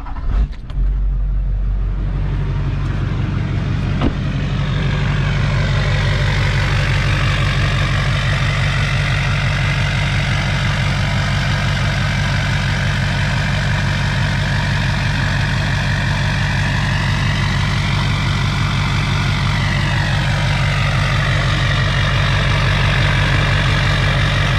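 A Duramax diesel-swapped Yukon truck with a 4-inch straight pipe idles loud and close, a deep steady rumble that holds for the whole stretch with only slight shifts in tone.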